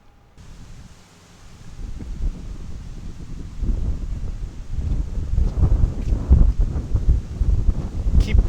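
Wind buffets the microphone outdoors at a fishing spot, a rushing, gusting roar that starts low and swells after the first couple of seconds, staying loud and unsteady throughout.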